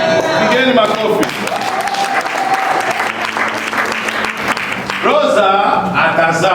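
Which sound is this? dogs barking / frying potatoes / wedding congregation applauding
wedding congregation applauding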